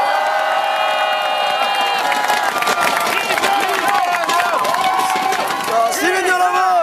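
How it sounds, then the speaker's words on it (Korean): Crowd at an outdoor political rally cheering and clapping loudly and continuously, with shouts and whoops mixed into the din. "이재명 대표님께 다시 한번 큰 박수를 부탁드리겠습니다"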